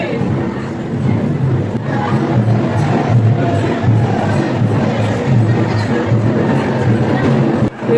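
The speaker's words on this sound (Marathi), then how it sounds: "पोचलोय मंदिरापाशी. गर्दी बघा." A dense crowd gathers at a temple, giving a loud, steady wash of overlapping voices and murmur that continues without pause.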